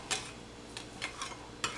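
Metal spoon scraping and clinking against a pan while cottage cheese and sugar are stirred over medium-low heat, a handful of sharp taps at an irregular pace over a quiet background.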